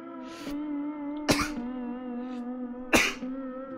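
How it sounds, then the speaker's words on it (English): Two abrupt, forceful sneeze-like bursts from a person break over a steady droning tone, a little over a second apart, close and loud with nothing else happening. "I'm gonna sneeze in a second."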